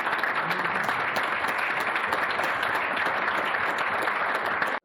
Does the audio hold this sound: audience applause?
yes